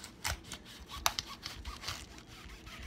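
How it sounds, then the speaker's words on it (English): Sharp knife cutting through the tough end of a cabbage, a series of close crunchy sawing strokes with irregular crisp snaps, fairly quiet. "Next thing you want to do is cut off this little end here."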